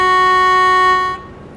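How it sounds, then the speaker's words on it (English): Twin air horns on an FH16 780 truck in Euro Truck Simulator 2 blast once, loud and steady with a bright chord of tones, then cut off after about a second. "we've got our twin air horns as well"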